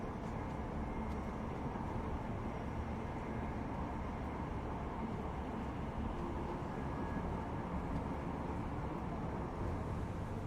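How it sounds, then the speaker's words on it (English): A subway train ride in Deus Ex: Mankind Divided, a steady, continuous rumbling hum of the carriage in motion, moderately loud and unbroken throughout, with no talk. "subway train"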